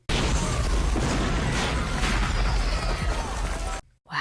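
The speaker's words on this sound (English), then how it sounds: "A cannon?" Loud, dense cannon fire and explosive booms from a battle scene in the film Gangs of New York, a sustained roaring barrage that cuts off abruptly near the end.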